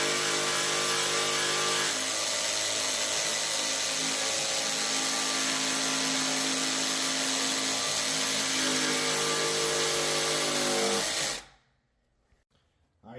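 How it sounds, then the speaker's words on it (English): A power tool, a jigsaw or router, cuts wood in a garage for an epoxy staircase piece, whining loudly and steadily for about eleven seconds before it stops abruptly and the room falls quiet. "Now we're going to take a jigsaw, we're going to curve these"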